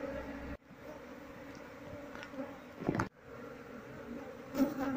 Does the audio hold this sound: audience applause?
no